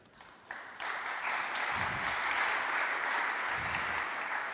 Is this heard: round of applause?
yes